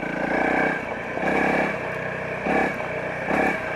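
A Honda CRF250L 250cc motorcycle engine rumbles close by on a forest road, rising in repeated bursts of throttle between steadier stretches as it rides along.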